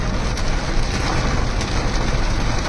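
Heavy rain falls in Ludhiana near Feroze Gandhi Market, a dense, steady, loud hiss of downpour with no distinct breaks.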